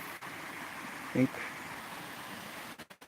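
Steady rushing of a mountain stream, moderately close and continuous, with a short burst of a man's speech in the middle and handling noise near the end.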